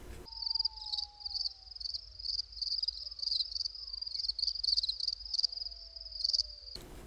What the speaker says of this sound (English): Anyone? Crickets.